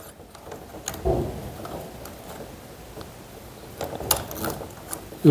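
Metal parts of a Type 38 rifle model gun are handled and twisted, giving small scraping and ratcheting clicks, with a sharp snap near the end as a part locks into place; close and fairly quiet.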